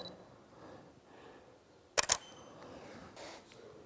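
A single camera shutter clicks sharply at a 1/15-second shutter speed, a quick double snap of the mirror and shutter in an otherwise quiet room.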